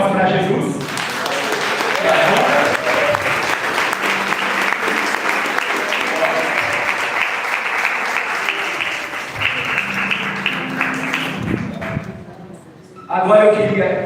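Congregation at a regional church service with communion claps in a loud, dense, sustained burst. The applause runs for about eleven seconds, then fades to a brief quiet before a voice rises near the end.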